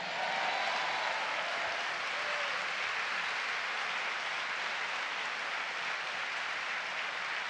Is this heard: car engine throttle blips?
no